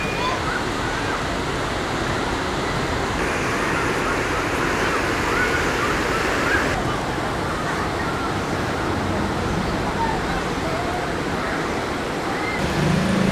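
Steady wind and surf wash over a beach at Krabi in hot sun, a continuous broadband roar with no distinct breaks, loud and close without talk.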